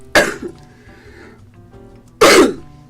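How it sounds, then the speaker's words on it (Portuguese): Two loud, close coughs from a woman on a Brazilian radio talk show, spaced about two seconds apart, with a quiet studio background between them. "eu vou ter que tossir"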